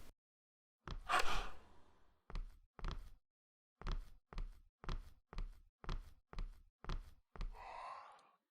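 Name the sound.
creature gasping sound in the video game Dark Presents on Christmas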